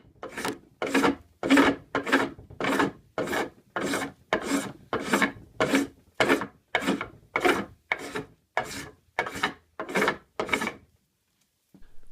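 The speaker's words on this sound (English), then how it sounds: "This is 35 seconds to get all these saw marks out with a spokeshave." A sharp spokeshave smooths saw marks off a curved wooden drawer front in steady, even rasping strokes, about sixteen in a row, close and distinct, with brief pauses between each.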